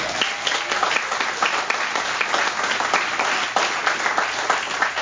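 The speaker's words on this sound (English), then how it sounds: "Give Willie a round of applause" Sustained audience applause fills a 12 step group meeting room, many hands clapping steadily and loudly for several seconds with no talk over it.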